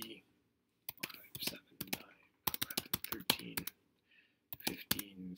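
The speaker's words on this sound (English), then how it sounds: "So I'm going to type in the data." Keys tapped on a computer keyboard while entering numbers into data columns, coming in quick close bursts of clicks separated by short pauses, with soft background hiss between them.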